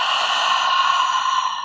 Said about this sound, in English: And then a big exhale out through the mouth.